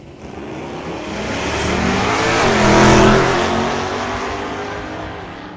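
Drag race cars roar down a racetrack side by side, the engines swelling to a loud peak midway and then fading as they pull away, with no voices.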